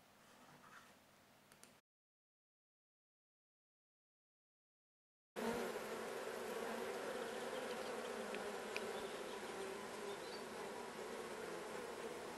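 Bees and other pollinating insects buzz steadily and close on a mild early-spring day, a continuous hum that starts after a short silence.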